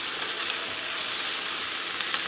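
Onions for Madurai mutton chukka sauté in a pan with a loud, even, hissing sizzle that holds constant from start to finish.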